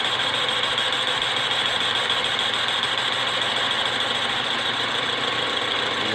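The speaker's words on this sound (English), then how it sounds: "There you can hear the intermittent cut now that we've reached the exhaust port." Boring a home-cast aluminum cylinder on a machine, the cutter going intermittent as it crosses the exhaust port, gives a loud, steady, dense machining roar with a faint rapid pulsing throughout and no talk.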